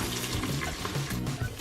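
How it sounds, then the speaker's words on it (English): Water poured into an Instant Pot from a cup, a short splashing trickle with gurgling pulses, fairly quiet. "You're gonna add half a cup of water."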